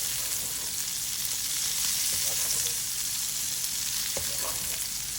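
Steak sizzles steadily in a pan of aromatic rosemary and garlic butter, a dense continuous frying hiss with small pops and crackles throughout, close and fairly loud, with no voices.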